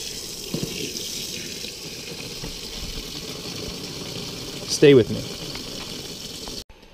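Water runs steadily into a portable washing machine being filled for its rinse cycle, a constant rushing stream heard beneath a man's brief speech, with a sharper splash or clatter midway before it stops.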